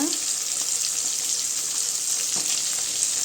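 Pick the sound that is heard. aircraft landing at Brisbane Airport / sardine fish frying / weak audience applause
sardine fish frying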